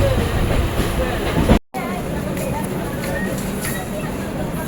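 A Konkan line passenger train on the Ratnagiri to Virar route running near Panvel, heard from inside as a steady rumbling rattle with a brief dropout, under background chatter from passengers.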